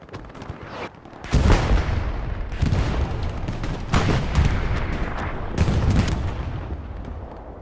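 Artillery and self-propelled artillery fire in a night battle on Foy, a World War II shooter: a sudden heavy boom followed by rolling, overlapping blasts and crackling impacts, loud and sustained with no voices.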